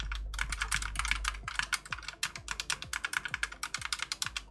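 Rapid typing on an A4TECH Bloody B820R mechanical keyboard with red switches: a steady run of fairly soft, close clicks and key clacks in an uneven rhythm, quiet overall, with no talking.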